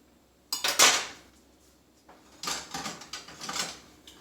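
Scrambled eggs with butter are stirred in a pan off the heat, giving bursts of close metallic scraping and clinking in two uneven clusters separated by a short quiet pause.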